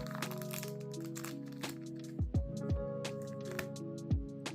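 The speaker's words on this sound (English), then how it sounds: "I'm just going to crack into this team bag and see what these cards look like." A plastic team bag holding Pokemon cards is handled and opened, giving short crinkling and crackling bursts over a steady tonal hum, close and fairly quiet, with no talking.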